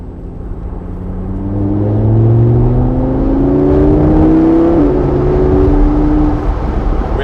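A Lamborghini Huracan Spyder with a 600-horsepower engine accelerates flat out, its rising engine note climbing through a gear change, loud and close, with no talk.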